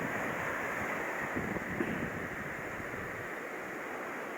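Strong typhoon wind buffets the microphone over a steady roar of ocean waves on the coast at Bari-is, Caibiran, a continuous dense wash with no talking.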